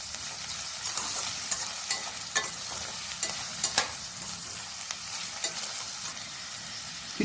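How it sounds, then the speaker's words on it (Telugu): Sliced onions sizzle and fry in a pan until browned for a methi chicken curry, with a steady crackling hiss and scattered clicks of stirring, heard up close with no talk. "ఈ ఉల్లిపాయలు బాగా వేగాలండి. బ్రౌన్ కలర్ వచ్చేంత వరకు వేగాలి."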